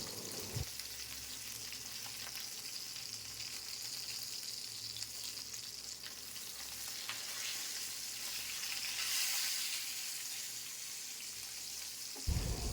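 Koi fish sizzling in hot oil in a frying pan, a steady crackling hiss with faint pops, close and continuous, quiet overall and free of talking.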